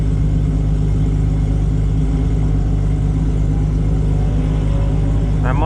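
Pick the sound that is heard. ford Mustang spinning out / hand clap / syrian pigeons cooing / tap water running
ford Mustang spinning out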